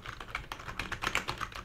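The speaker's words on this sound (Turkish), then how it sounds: "Bu klavyenin de ben sesini seviyorum." Rapid keystrokes on a Piranha gaming RGB keyboard, a budget membrane board with tall keys, clacking in an even, steady flurry at close range with no one speaking.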